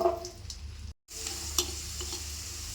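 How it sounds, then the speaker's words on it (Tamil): About twenty garlic cloves frying in hot sesame oil for a pickle, a steady close sizzle with stirring scrapes and a brief break in the middle. "பூண்டு ஒரு 20 பல் எடுத்துருக்காங்க. இந்த எண்ணெயில் சேர்த்துக்கலாம்."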